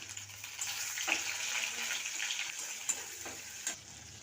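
Tomato dropped into hot oil with bay leaf, whole cumin and ginger paste for a vegetarian cabbage and peas dish, giving a steady soft sizzle with a few stirring scrapes, fairly quiet and close.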